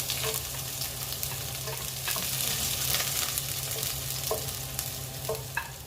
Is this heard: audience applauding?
no